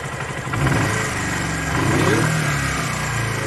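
A Jinlun 125 chopper motorcycle engine revs during carburetor tuning, idling close by and then swelling through two throttle blips before settling back, with no talking.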